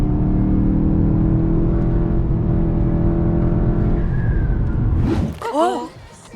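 A Volkswagen Golf 7 GTI accelerates hard, its engine droning loud and steady up close with a strong low rumble, then the sound drops away and a few sharp revving gear changes rise near the end.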